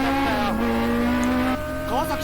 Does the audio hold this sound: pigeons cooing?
no